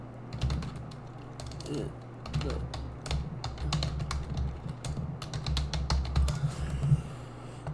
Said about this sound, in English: Don't mind my typing, guys.